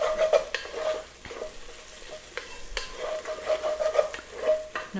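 Ingredients for an Indian chickpea and sweet potato curry sauté in a pan, a soft, fairly quiet sizzle broken by light utensil scrapes and clinks.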